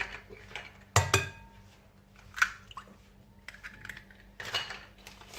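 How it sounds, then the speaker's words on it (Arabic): Three room-temperature eggs cracked into a bowl for a light cake batter: a sharp crack with a brief wet splat, followed by a few softer taps and shell clinks against the bowl, close and fairly quiet. "كناخذ واحد الاناء كنفرغ فيه البيض"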